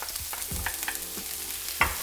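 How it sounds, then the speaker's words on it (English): Chopped red chilies, coriander stalks and garlic, along with onions, stirred in a hot pan, giving a low sizzle with a few distinct scraping strokes and clinks from the spoon, close by. "give that a really good stir"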